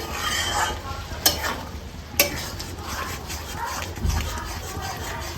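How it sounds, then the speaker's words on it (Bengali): Bottle gourd leaf paste stirred in a pan to dry it out, with two sharp spatula clacks against the pan over a low, continuous sizzle and soft scraping, close by. "যাতে পোড়া না লেগে যায় সেইভাবে এটাকে শুধু শুকনো করে যেতে হবে।"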